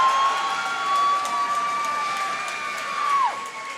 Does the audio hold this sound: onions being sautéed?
no